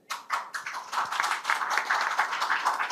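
An audience at a direct selling growth summit and awards event claps in a dense, continuous patter of many hands, fairly close and steady throughout with no talking.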